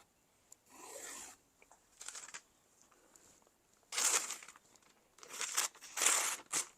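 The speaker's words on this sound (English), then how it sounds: "Let me give it a bit of a strop." A knife is stropped on a Tormek sharpener in several short bursts of rasping, brushing strokes, each about half a second to a second long, separated by quiet pauses.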